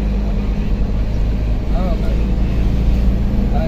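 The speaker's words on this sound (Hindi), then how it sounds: "भाई टाटा के पूरे ट्रक जा रहे शोरूम वाले।" Tata trucks from a showroom rolling along the road from Nagpur toward Girad, heard as a steady low engine and road rumble throughout, with a brief voice rising over the drone partway through.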